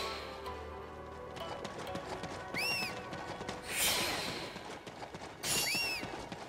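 Horse hooves in the Samurai Warriors: Spirit of Sanada game, a soft running clip-clop under game ambience, with a few brighter swooping effects and a snort-like burst mixed in, fairly faint.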